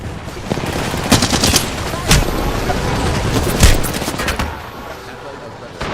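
Rapid gunfire from the battle game Apex Legends, with repeated sharp bursts and several louder shots crackling over dense, continuous combat noise, heard close and loud.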